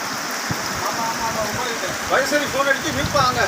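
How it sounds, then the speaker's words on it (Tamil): Floodwater rushes across a road at a breached tank in Kadambakulam, Eral taluk, Tuticorin district, as a steady broadband wash. Voices briefly rise over the flow near the end. "ஃபுல்லாக தண்ணி தான் பார்க்குறது வந்து ரோட்டு மேலே தண்ணி போயிட்டுருக்கு"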